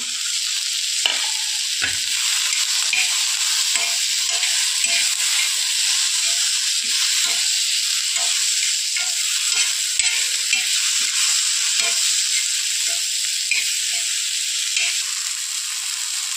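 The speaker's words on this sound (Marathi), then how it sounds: "आता आपण यामध्ये काजू आणि खोबरं टाकूया।" Cashews and coconut sizzle in a hot pan alongside a soybean dish, a steady loud frying hiss with occasional stirring scrapes throughout.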